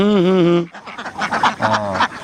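Ducks on a duck farm quack loudly and close by, first in one long nasal call, then in several shorter overlapping quacks.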